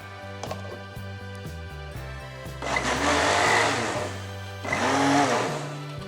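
Kitchen mixer blending cucumber juice with a little salt and sugar, two loud sustained whirring bursts separated by a short lull, near and alone.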